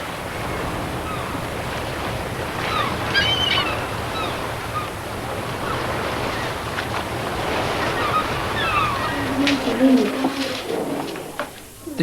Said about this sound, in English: The new boat fairly skimmed over the waves.